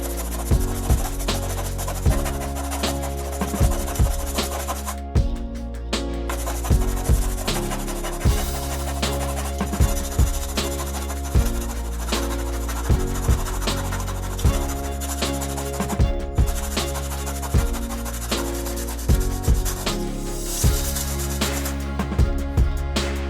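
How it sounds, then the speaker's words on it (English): Sandpaper rubs repeatedly over the top cover of a jar in a steady back-and-forth rasping rhythm, close and continuous, with a few brief pauses between strokes. "To remove the top cover you will need sandpaper and a little patience."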